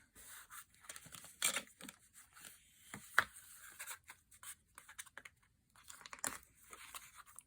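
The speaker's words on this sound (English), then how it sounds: "just fold this one flat a few times because it's a double layer in there" Double-layer designer paper card stock is folded flat and creased by hand, giving several quiet crinkling, rustling bursts with soft taps and pauses between them.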